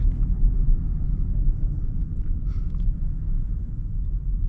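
A 2026 Land Rover Defender 130 pulls away with a steady, deep low rumble from inside the cabin, a continuous drone with little change in pitch and no voices.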